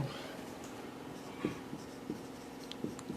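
Faint, quick strokes of a teacher writing on a board, a few short scratchy marks spaced about half a second apart, over a low background hum in a quiet classroom.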